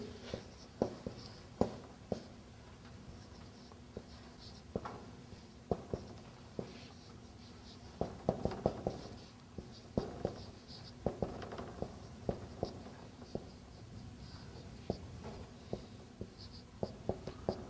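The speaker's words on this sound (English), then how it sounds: "Let me write down." Chalk or marker writing on a board during an Arabic grammar lesson: a steady series of faint, scratchy strokes and taps, irregular in rhythm, with a brief burst of denser scribbling midway, in a quiet room.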